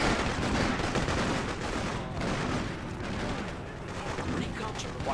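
AK rifle gunfire in the video game Freedom Fighters: dense, continuous rattling bursts and booming shots in a loud battle mix that stays busy throughout.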